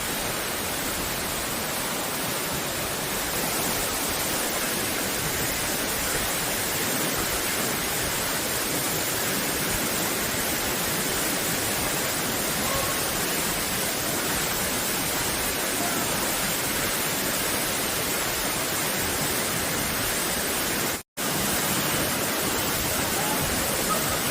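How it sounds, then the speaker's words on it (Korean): Water rushes at Surak waterfall in Gapyeong, a loud, continuous roar heard close up that holds steady throughout, broken only by a brief dropout near the end. "폭포 가까이 더 이상 접근이 어려울 듯 합니다."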